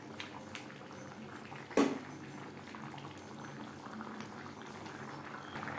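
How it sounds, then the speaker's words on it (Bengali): Prawns and jackfruit in gravy simmering in a pot, a soft steady bubbling close by with one brief louder knock near the start, otherwise quiet and without voices. "গ্রেভির সাথে মাছ আরও 4-5 মিনিট রান্না করব"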